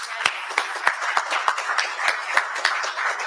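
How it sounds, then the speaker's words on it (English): Scattered clapping from an audience at a community festival partner event in Louisville, irregular sharp claps rather than full applause, with a voice faintly present underneath. "So let's give a big round of applause for Andrea Shepard from Dare to Care."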